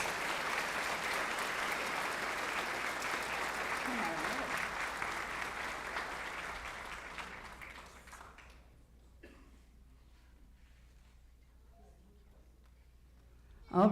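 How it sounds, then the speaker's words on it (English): Audience at an 8th grade awards assembly gives a sustained round of applause, steady crowd clapping that tapers off after about eight seconds into quiet room tone. "Please give them a round of applause."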